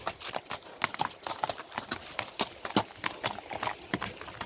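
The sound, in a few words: horse walking, hooves clip-clopping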